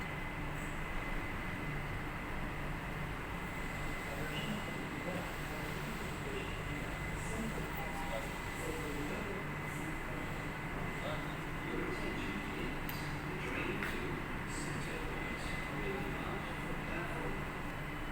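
Steady rumbling hum of a metro train at a station platform, continuous and fairly loud throughout, with station ambience and faint voices mixed in.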